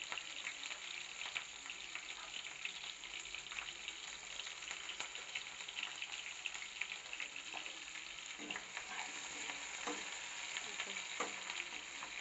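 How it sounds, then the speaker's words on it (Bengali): Onions frying in a pan for homemade chicken curry, a steady, even sizzle with the occasional faint stir, and no talk. "একটু ভাজা হবে,"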